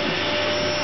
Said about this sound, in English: I don't know whether you can hear this, but this is how a hoover,